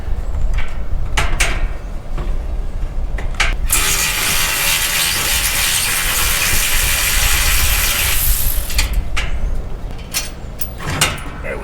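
Rusty rear bolts coming out of a set of RV steps, loud and close, with a long grinding ratchet-like drone after a few sharp knocks, then more scattered clanks.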